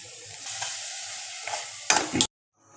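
Stirring a mango, coriander and tamarind curry in a pan: a low continuous sizzle broken by several scraping stirs, the last ones loud and close, then abrupt near-silence.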